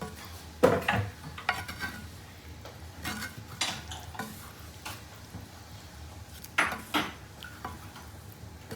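Egg roast stirred in a sizzling pan, a spoon scraping and clinking against the metal in scattered strokes over a soft, steady frying hiss, up close.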